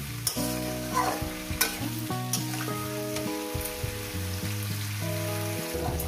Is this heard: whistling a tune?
no